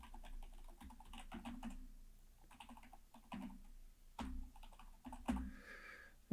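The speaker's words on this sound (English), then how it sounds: "I'm just going to type it in here." Typing on a computer keyboard, a steady run of close, soft key clicks with a few louder taps, no voices.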